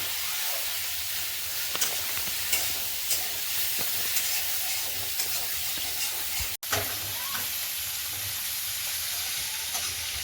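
Fish sizzling steadily in mustard oil in a wok, a loud continuous frying hiss throughout with faint stirring clicks and a brief cut-out midway, and no voices.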